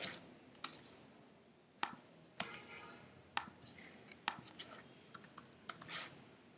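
Typing on a computer keyboard at a desk while entering a pickup address, a quiet run of irregular sharp key clicks with several louder taps spread across the stretch, no voices.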